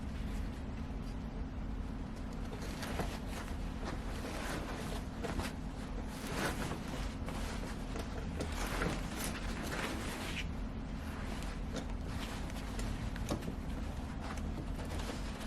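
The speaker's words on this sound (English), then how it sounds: "I will go ahead and sew from that spot where I ended that row of stitching" A sewing machine stitches along a sofa slipcover body, running as a steady continuous mechanical hum with fine repetitive clatter, close and alone with no voices over it.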